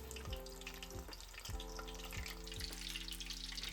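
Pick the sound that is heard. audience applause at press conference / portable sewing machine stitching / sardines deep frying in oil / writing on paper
sardines deep frying in oil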